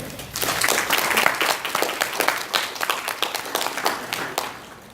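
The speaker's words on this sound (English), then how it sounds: "If you feel like you're a good person, clap your hands." Audience members clap their hands at a university talk, a loose, moderately near patter of distinct claps that stays fairly even throughout with no talking over it.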